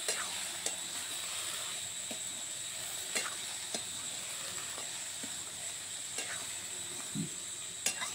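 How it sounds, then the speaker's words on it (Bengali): Low, steady sizzling of potatoes and eggplant frying in a wok, punctuated by occasional sharp clinks and scrapes of stirring, quiet and continuous. "কড়াইতে দিয়ে দেওয়ার পর আমি ভালো করে নেড়ে চেড়ে সবগুলো একসঙ্গে মিশিয়ে নেব।"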